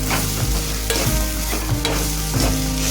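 Sweet corn kernels sizzle and fry in a pan, with a steady crackling hiss and repeated scraping stir strokes roughly every half second, close and fairly loud, no voices.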